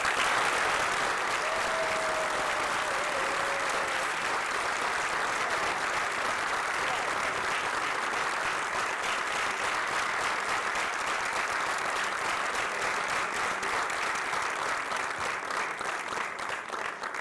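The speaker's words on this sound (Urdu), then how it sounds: "اتنی تالیاں بجائیں کہ وہاں تک آواز جائے" A mushaira audience of Urdu poetry listeners breaks into long, sustained applause, a dense, even wash of many clapping hands that holds steady for the whole stretch.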